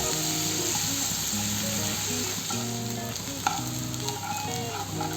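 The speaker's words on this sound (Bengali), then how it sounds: "পেঁয়াজের পেস্টটা কিছু সময় ভেজে তারপর অন্য মশলা দেব" Onion paste fries in a pan for a Bengali lacho fish curry, a continuous close sizzle with light stirring scrapes, all under steady background music.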